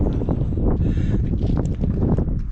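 Steady wind buffeting the microphone on a breezy evening in Quartzsite, a constant loud rumbling roar with gusty rustle throughout and no voices.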